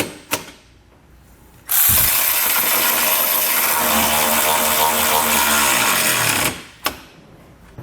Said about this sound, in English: we'll come back with that 16mm socket and snug them all down